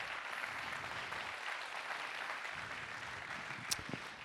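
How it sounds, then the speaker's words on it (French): Audience applause at the Créateurs d'avenir 2021 awards ceremony, a steady, fairly faint patter of clapping heard from a distance with no talking. "On peut les applaudir une nouvelle fois."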